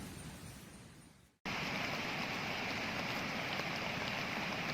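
Steady rain falls on a home in Kerala, a dense and even hiss that starts after a short pause and then keeps going without a break.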